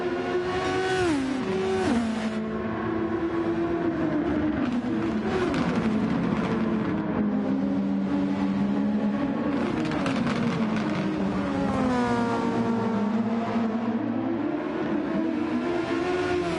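Race cars in the Grand Prix Legends video game lapping Grand Valley, two teammates running close: loud, continuous engine howl whose pitch climbs and drops with gear changes and corners, with overlapping engine notes from the closely following car.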